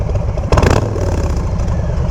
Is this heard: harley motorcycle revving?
yes